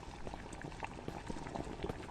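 Liquid bubbles and boils steadily in SCP: Secret Files, the SCP-701 Hanged King's Tragedy level. It is a quiet, continuous, close simmer of popping bubbles.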